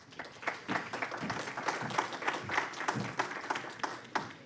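An audience at a political-participation conference panel applauds, a steady run of many hands clapping at moderate loudness with scattered sharper claps and no talk over it.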